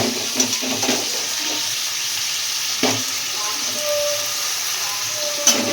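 Food frying in a pan once its water has cooked off, a loud close continuous sizzle and hiss with occasional stirring scrapes and pops.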